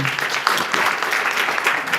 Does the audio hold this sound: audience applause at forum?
yes